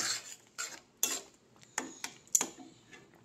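A spoon stirring sugar and chili powder into a vegetable dal, a series of roughly seven distinct clinks and scrapes against the pot, close and fairly quiet, with no voices.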